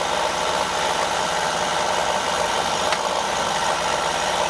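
Toy AEG Oko-Lavamat 86730 washing machine on a fast spin near 1,000 RPM, rattling against its hold: a steady, loud, close whirring drone with constant buzzing vibration throughout.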